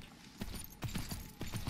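Horse hooves in the video game Myth of Empires, heard as three soft, evenly spaced clusters of thudding footfalls at a running pace, fairly quiet and with no talk over them.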